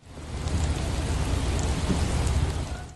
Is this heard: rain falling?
yes